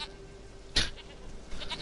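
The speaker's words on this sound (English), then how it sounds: "Goat of mine, dearest, sweetest goat." A goat in the video game The Witcher 3 gives a single short bleat, fairly close, over quiet ambient background.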